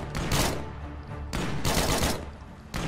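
Video game gunfire in State of Decay, loud close bursts of rapid shots in three clusters with brief pauses between, no talk.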